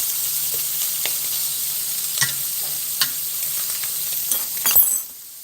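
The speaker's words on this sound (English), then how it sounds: "I'm gonna put a little crab, or maybe a lot of crab in there." Crab added to a hot pan, crackling and sizzling steadily up close, with a few sharp clinks and stirring knocks, then the sizzle cuts off near the end.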